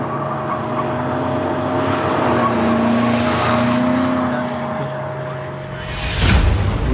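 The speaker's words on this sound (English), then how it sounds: "We have commenced drifting." BMW M5 cars drift on a track during a record-setting marathon drift, engines holding a loud sustained wail with shifting pitch and tire noise, swelling as a car sweeps close near the end.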